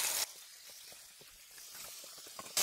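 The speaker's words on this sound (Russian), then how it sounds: "И обжариваю грудку." Chicken breast frying in olive oil in a hot pan, giving a steady quiet sizzle with scattered small pops and crackles, no talking over it.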